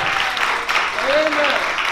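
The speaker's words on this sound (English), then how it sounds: "Give a round of applause to the pastor of this church." Church congregation clapping for the pastor at a praise celebration, steady mid-level applause with a voice or sung tone sliding briefly through the middle.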